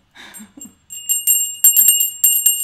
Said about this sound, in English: I'm going to use a bell because the divine likes the bell.